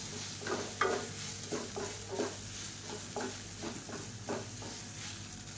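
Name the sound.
idli pieces frying in oil, stirred in a pan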